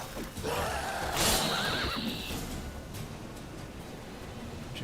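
A single loud horse neigh in The Witcher 3: Wild Hunt rings out early, then trails off into soft hoof clops and faint background ambience.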